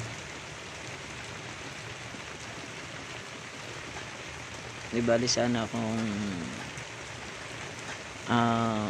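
Steady rain falling on a farm field hisses continuously throughout, with a person briefly speaking over it near the end.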